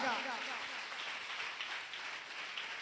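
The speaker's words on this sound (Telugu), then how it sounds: "గట్టిగా చప్పట్లు కొడుతూ దేవుని స్థుతించండి" A church congregation claps together in a steady, dense wash of applause during worship, sustained throughout at moderate loudness.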